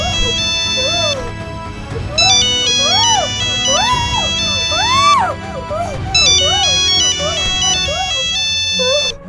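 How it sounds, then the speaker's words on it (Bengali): A mobile phone rings with a loud, repeating electronic melody of warbling tones, playing continuously and close by. "এই ফোনটা কার বাজছে রে?"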